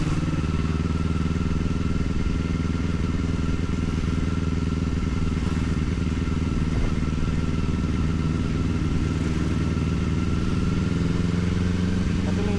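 A Kawasaki Ninja 500 motorcycle engine drones steadily and loud at close range while riding, a continuous mid-pitched hum with slight clattering and no distinct rev bursts.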